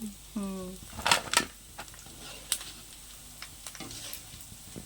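Chicken pieces frying in hot oil for pickle, close crackling sizzle with a few sharp bursts and spatters, a brief tonal clink near the start, no talking.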